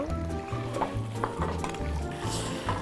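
Garlic, shallot, onion and tomato frying in oil for a Catalan sofregit, a continuous close sizzle with occasional stirring scrapes in a pan.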